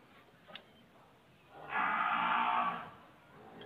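A single short bellow from a Nili-Ravi buffalo calf, moderately close, in an otherwise quiet setting with a faint click before it.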